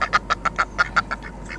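A duck sound effect gives nine quick, evenly spaced quacks, loud and close, with nothing else around them.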